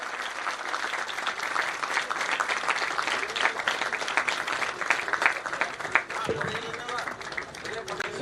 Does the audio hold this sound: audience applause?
yes